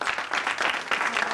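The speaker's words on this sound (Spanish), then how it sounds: "Un aplauso, por favor." Audience applause on a Spanish-language television show, a dense wash of many hands clapping with slight swells, fairly distant and continuous for over a second.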